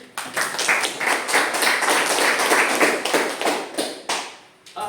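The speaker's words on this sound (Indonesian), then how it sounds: "Tepuk tangan dulu." Students in a chemistry class clap their hands together in a quick, rhythmic burst of sharp, close claps that runs for several seconds before dropping off.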